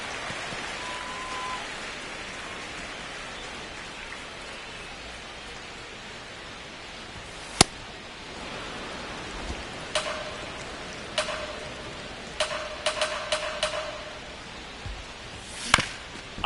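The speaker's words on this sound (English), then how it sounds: "the field's not going to be able to hold up if the rain gets any worse than this" Heavy rain falling on a baseball field in MLB The Show 26, a steady hiss of downpour with a few sharp knocks and clacks of game action cutting through near the end.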